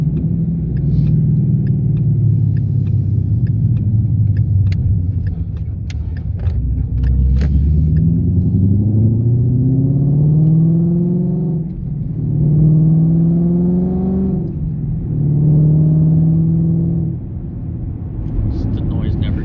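The V8 engine of a 2017 Ford Mustang GT rumbles loudly from inside the car while driving, rising and falling in pitch through several revving pulls as gears change.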